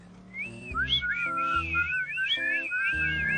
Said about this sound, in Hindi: क्या तुम लेफ्ट जाने के लिए सीटी बजा रहे हो या फिर राइट?